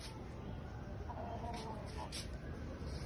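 Chickens on a small flock, a rooster repeatedly going after two hens, with soft clucking and fowl calls over a steady noisy background, while a person talks nearby.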